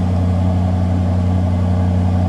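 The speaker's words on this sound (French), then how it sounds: "On entend le beau V8." Aston Martin DBX V8 runs at a steady, loud, close-up idle, a deep, even rumble with a strong low hum and no voices over it.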